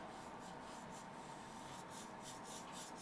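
A paintbrush scrubs white paint onto canvas for a winter snow scene, giving a faint, steady rasping swish with rhythmic strokes, close and quiet with no voices.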